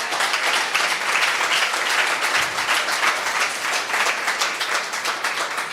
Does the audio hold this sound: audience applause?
yes